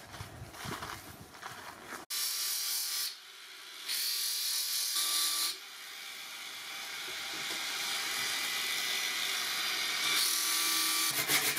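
A power tool polishes a metal axe head in a workshop, a loud, harsh, gritty whir that starts abruptly and continues in bursts of varying intensity, close by and without speech.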